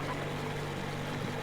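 A motorboat engine idling in the video game Metro Exodus, a faint steady low hum with a constant droning tone and no speech.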